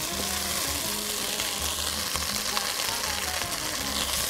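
Ginger paste frying in a pan for shukto, a loud continuous sizzle with occasional stirring, heard close and without speech.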